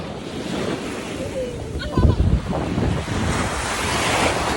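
Ocean waves washing onto a beach, a loud continuous surf roar with wind buffeting the microphone and a brief heavier crash near the middle.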